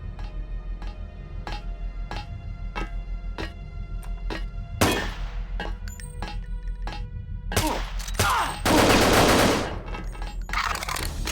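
Gunfire in the video game Deus Ex on board a ship: a steady series of sharp single shots at regular intervals, then louder, denser bursts of fire and impacts toward the end, with no talking.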